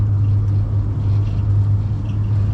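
Twin F300 outboard engines on a North River 3100 SXL boat, throttled up: a loud, steady low drone that holds constant and close throughout, with no voices.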